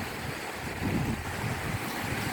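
Ocean waves at Mae Ramphueng beach in Rayong, a steady broadband wash of surf mixed with wind, with a slightly louder swell near the middle and no voices.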